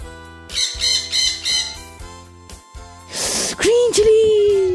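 A parrot gives a loud, harsh squawk that rises and then holds steady near the end, following a stretch of bright, tuneful backing music.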